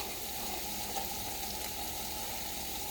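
Two tablespoons of butter melt in a hot pan, giving a steady, close, even sizzle and crackle with no talk over it.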